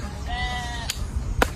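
A single close sheep bleat, a short wavering cry lasting about half a second, followed by a couple of sharp clicks and soft background noise.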